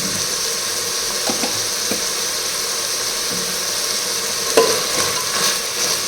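Pulao ingredients with a spoon of curd frying in oil in a pot, giving a steady close sizzle with a few soft stirring knocks and scrapes and one louder clink near the end.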